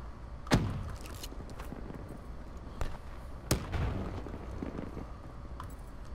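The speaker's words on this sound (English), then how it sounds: "accidentally threw my nade." Video game gunplay with two sharp grenade-like blasts and a few smaller thuds and cracks, fairly faint over a steady low background rumble.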